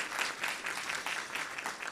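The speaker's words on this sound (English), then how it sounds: "That's worthy of a lot of cheering" Steady applause fills a school board meeting room, a dense, continuous clatter of clapping hands from a sizable audience with faint cheering mixed in, holding at an even level throughout.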